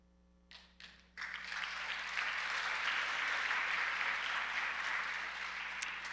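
Applause from a school convocation audience, beginning with a few scattered claps and then swelling into steady, full clapping that holds at a constant level.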